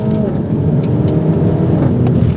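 A Mini Cooper S with a dual-clutch gearbox is pushed hard through corners on sticky tires. Its engine note is loud and close and holds steady at high revs, with a raspy, buzzy character throughout.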